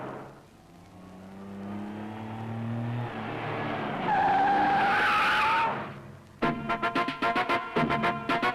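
A car pulls away with its tires skidding, a rising engine note building into a loud drawn-out screech of rubber, then a rapid run of sharp pulsing bursts as it speeds off.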